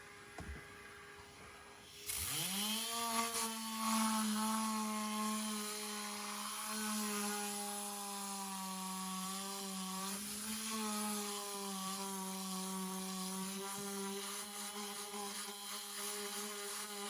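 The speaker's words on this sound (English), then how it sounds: "You do need a powerful compressor to use these, as they do use a lot of air" A compressed-air carpet cleaning tool bursts into a loud continuous whine and rushing blast after a quiet start, holding a steady pitched roar while cleaning the carpets of an MG ZS 1.6.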